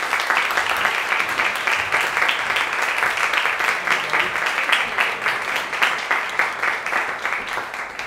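A concert audience at a Palm Beach Opera recital applauds steadily and warmly for a speaker arriving at the podium, with dense sustained clapping throughout.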